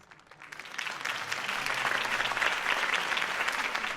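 Crowd applause in the Telltale Batman video game after Harvey Dent's campaign speech, swelling from a thin start into steady, dense clapping that holds throughout.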